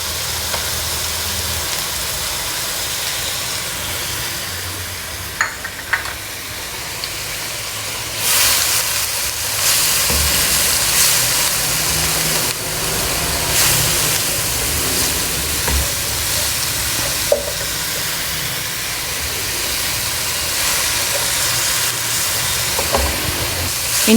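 Garlic and ginger paste frying in a pan gives a steady, loud hiss and sizzle, with a few faint clinks across the stretch.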